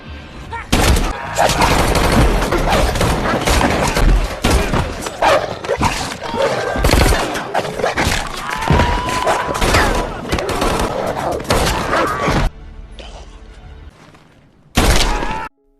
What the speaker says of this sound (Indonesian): Barada pun langsung menembak salah satu anjing Sofia